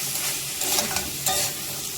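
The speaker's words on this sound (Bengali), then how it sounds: "শুরুতে আমি কাঁকড়াটা ভেজে দিব তেলে" Crab sizzles in hot oil with salt and turmeric, a loud, dense frying hiss with a few stirring scrapes over two seconds, close up and with no voices.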